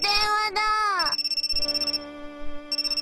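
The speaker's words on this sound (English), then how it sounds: "My cell phone rang." A cell phone ringtone plays in the G-senjou no maou visual novel, a bright electronic melody with pitch sweeps and sustained tones, loud and up close, with brief pauses between phrases.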